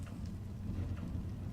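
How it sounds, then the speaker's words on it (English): Steady rainfall in Minecraft with the Better Than Wolves mod, a soft continuous hiss of drops with a low rumble underneath, heard alone. "so just going to wait until it stops raining"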